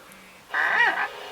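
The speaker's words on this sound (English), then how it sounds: "Yeah, that was my phone, oops." A mobile phone notification sounds once close by, a short bright tonal chime with a slight warble lasting about half a second over a quiet background.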